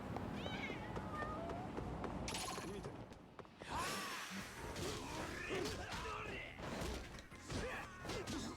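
A cat meows in the video game Lost Judgment, several rising calls heard among crashes, thuds and mechanical clatter from the game, with voices talking over parts of it.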